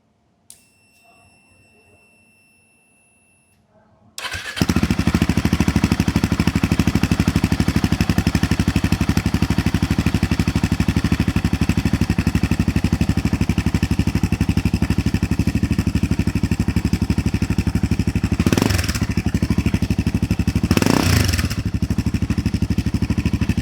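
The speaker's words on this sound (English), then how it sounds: "Let's listen to the exhaust with the baffles." After a few quiet seconds, a Royal Enfield Himalayan 450 motorcycle with a PoweRage stainless steel exhaust fitted with baffles starts and idles loudly with a deep, throbbing exhaust rumble, briefly revved twice near the end.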